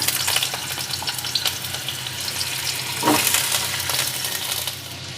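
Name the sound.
potatoes frying in hot mustard oil in a wok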